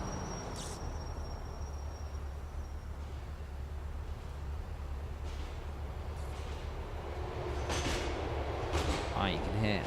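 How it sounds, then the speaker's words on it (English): A train passes underneath in the Liberty City video game as a steady, low mechanical rumble. It swells slightly toward the end, with a voice talking over it. "there's just a train gone under there"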